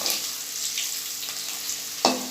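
Crushed garlic fries in hot oil with a bright, constant sizzle close by. A sharp utensil clink lands near the end over the crackle.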